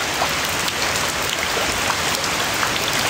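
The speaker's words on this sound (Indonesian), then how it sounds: "Iya di sini hujan teman-teman." Steady heavy rain falling outdoors, a dense, loud, unbroken hiss of drops on surfaces that holds constant throughout.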